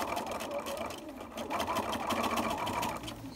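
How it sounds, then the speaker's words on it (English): Sewing machine stitching a fabric face mask, a steady rapid mechanical chatter running continuously at moderate level close by, with no talk over it. "Put your foot down and we're going to start sewing about 1/8 of an inch along"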